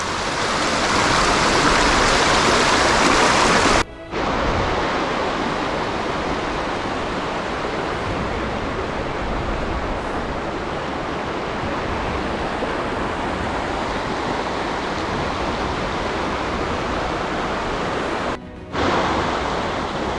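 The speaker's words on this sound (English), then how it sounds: "Alright, we're going to cross this river." River water rushes steadily and loudly close by at a river crossing in the ranges near an abandoned mining town, a continuous broadband roar with two very brief dropouts.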